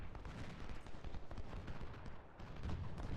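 Artillery and massed gunfire rumble through a Civil War battle in the strategy game Ultimate General: Civil War, a dense, continuous roll of overlapping booms and crackling shots with no pauses, steady and loud throughout.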